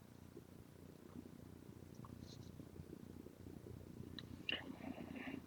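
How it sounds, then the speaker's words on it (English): A cat purrs close by in a quiet room, a soft, steady low rumble running under the whole stretch, with a few faint clicks and a small bump near the end. "Cat just came."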